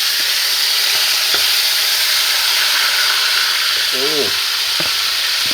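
Marinated beef frying in hot oil, a loud steady sizzle and hiss with faint stirring clinks, and a short exclamation from a voice partway through.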